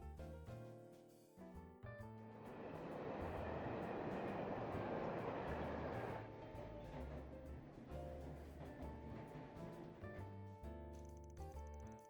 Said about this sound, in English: Van and Renne rode the subway across the capital